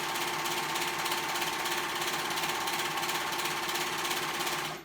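A sewing machine runs continuously while stitching a knit cardigan, a fast, even mechanical whirr with a rapid needle rhythm, close and steady, stopping abruptly at the end.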